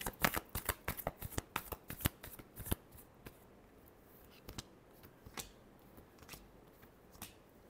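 Tarot cards are shuffled by hand in a rapid series of crisp riffling slaps and flicks, loud and close at first, then thinning to sparse taps.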